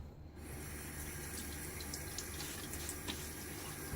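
Cold water runs and splashes from a tap as it is splashed onto the face before shaving, a soft continuous trickle with faint little splashes throughout.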